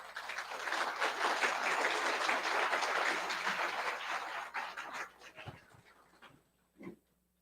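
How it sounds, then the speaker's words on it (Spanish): A conference audience breaks into sustained applause, dense and fairly loud for several seconds, then thins out and fades to scattered claps. "el doctor Freddy William se merece un gran aplauso"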